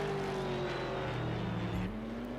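Race cars in a racing video game roaring past at high revs, a loud continuous engine whine with shifting pitch as cars close in and pull away, no talking.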